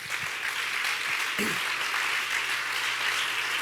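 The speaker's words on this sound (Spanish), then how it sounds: "Denle un aplauso fuerte a Jesús." Congregation applause at a church service fills the space at a steady level, a dense wash of clapping that holds throughout with a faint voice briefly rising beneath it.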